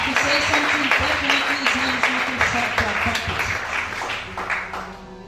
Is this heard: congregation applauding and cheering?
yes